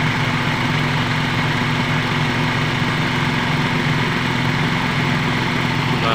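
A Toyota Vios engine idles steadily at about 600 rpm with its radiator fan running, producing a continuous close hum and whirr with a constant low tone and no talk.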